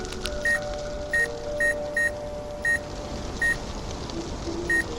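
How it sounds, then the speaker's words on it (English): Short electronic beeps in Nancy Drew: Midnight in Salem repeat at slightly irregular intervals, clear and steady over a soft ambient background, seven or eight in a row with no talking. "Well, it was beeping."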